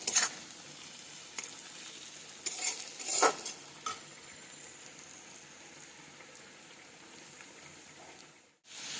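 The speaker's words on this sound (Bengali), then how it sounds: "চিংড়ি মাছটা একটু ভেজে নিই তেলের সাথে" Prawns frying in oil in a home kitchen pan with salt and turmeric, a steady soft sizzle with a few scraping stirs and clinks near the start, fairly quiet and without talk.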